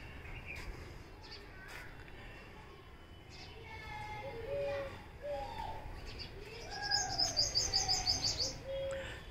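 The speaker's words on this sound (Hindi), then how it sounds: "चिड़ियों की चहचहाहट आपको निरंतर सुनाई देगी" Sparrows, sunbirds and other small birds chirp and tweet steadily in a flower garden in Jodhpur, with short repeated calls near and far, some rapid trills, and a pigeon's soft cooing in the background.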